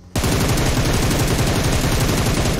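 Rapid automatic gunfire in a first-person video game shooter: a sudden, loud, continuous burst of close shots in a fast steady rhythm lasting over two seconds, with no talking.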